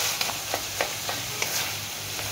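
Potato curry is mashed in a pan with a spoon: rhythmic soft taps and scrapes come roughly every third of a second over a steady low sizzle, with no one talking.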